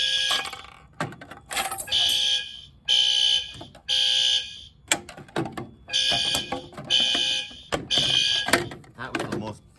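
First-generation fire alarm horns blare in repeated loud bursts with short gaps during a fire alarm system test, close and harsh, with a voice speaking between them.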